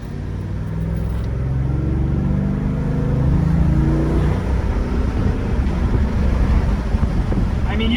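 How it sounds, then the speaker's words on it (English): A 2025 Ford F-150 XLT's 5.0L Coyote V8 engine accelerates under light throttle from inside the cab, a low rising engine drone with road and wind noise, steady and continuous. "you can hear the engine noise, right?"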